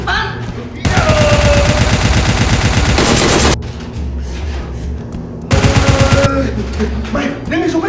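Toy Nerf blasters fire during a staged Nerf war game, with two long, loud bursts of rapid shots that stop abruptly. Tonal, whistling sound effects run through the bursts, and quieter stretches of noise and a brief shout fall between them.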